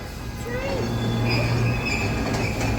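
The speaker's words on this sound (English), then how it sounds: "Alright, here comes another train." A heritage train on the West Coast Wilderness Railway in Queenstown, Tasmania, rolls past steadily with a low rumbling drone and faint high wheel squeals, continuous and fairly loud throughout.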